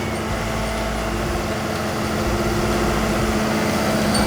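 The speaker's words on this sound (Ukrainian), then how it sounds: "Трактор пече, вже в роботі." Tractor engine working a cultivated field in spring planting season, a steady, continuous mechanical drone with a constant hum, heard close and loud throughout with no letup.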